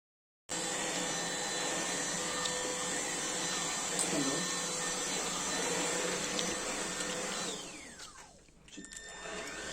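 A Tefal X-Force Flex 8.60 cordless stick vacuum cleaner hums steadily at close range with a constant motor whine, then the tone drops and shifts as it winds down near the end.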